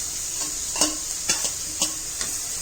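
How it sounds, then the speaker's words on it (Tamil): Vegetables and beetroot for cutlets are stirred in hot oil in a pan: a steady bright sizzle with several distinct scraping stir strokes, close and fairly loud, and no voices. "இந்த மாதிரி எண்ணெயிலே கொஞ்சம் வதக்கணும்"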